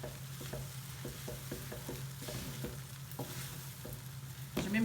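Egg noodles and cooked vegetables are stir-fried together in a pan, giving a steady close sizzle broken by repeated scraping and clacking stirring strokes at an uneven rhythm.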